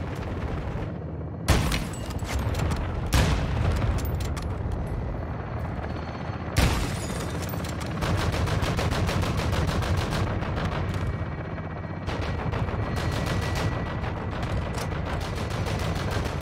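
Dense video-game gun run strike: sustained rattling automatic gunfire with sharp explosive cracks near 1.5 and 6.7 seconds, loud and continuous throughout, with machine-gun bursts rolling over a rumbling battlefield background.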